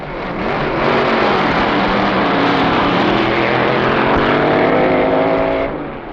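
A 1963 Dodge double-A competition dragster's engine roars at full power during a drag race, a loud, sustained howl that swells in and fades at the end.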